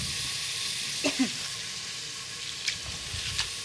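Cabbage sizzles steadily in a hot pan as a Bengali cabbage bhaji cooks, a soft even hiss throughout with a few brief clinks and scrapes of stirring.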